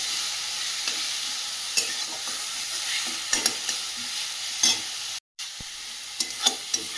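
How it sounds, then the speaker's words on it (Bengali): Ginger garlic paste fries in a pan with a continuous close sizzle, punctuated by spatula scrapes and clicks; the sound cuts out briefly for an instant before the frying resumes, and nobody speaks. "আবারও ভালো করে ভেজে নেব"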